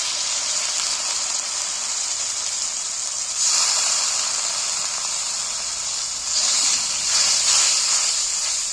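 A splash of water hits frying egg curry masala. It gives a strong, steady steam hiss that surges louder twice, with no talking.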